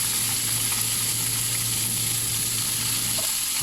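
Cauliflower, carrots, green peas and chopped green chilies frying with browned onions in a pan over medium flame, a steady close sizzle that holds evenly throughout.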